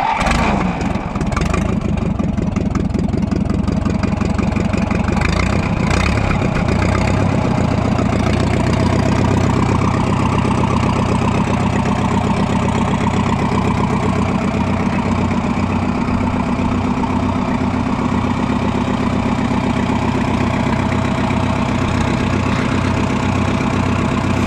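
An Oliver 60 tractor engine idles steadily and loudly nearby for the whole stretch, with a rough, rhythmic low chug and a few sharper knocks early on, no voices over it.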